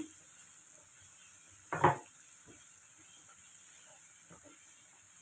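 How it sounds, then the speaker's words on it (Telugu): Fresh spinach hits a hot pan in a home kitchen with one brief, loud hiss of sizzling steam that quickly dies back to a faint background crackle. "ఓకే అండి పాలాకు వేస్తాము"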